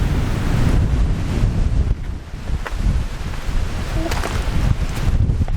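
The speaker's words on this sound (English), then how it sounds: "Wow, some wind here." Strong wind buffets the microphone on an outdoor hike near old 800-year-old cement ruins, a loud continuous roar with gusty surges throughout and no speech.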